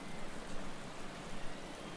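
Rain falls steadily during a race in the Motorsport Manager video game at Cape Town, making a constant, soft hiss with no talking over it.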